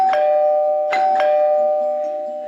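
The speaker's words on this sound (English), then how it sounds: "The double doorbell indicates that the music session is over" Double doorbell chime marking the end of a music session, a sustained tone struck with distinct ding-dong hits, ringing out clearly and fading.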